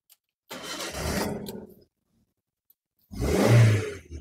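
A 2012 Toyota Avanza 1.5 Veloz automatic is started: a first cranking burst of about a second fades out, then after a pause a second louder start catches with a low roar, close and clear with no talking.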